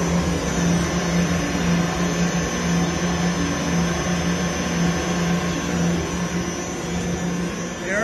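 A 500-litre horizontal ribbon blender in a milk powder mixing line runs with a loud, steady motor drone and broadband mechanical whir, unchanging throughout.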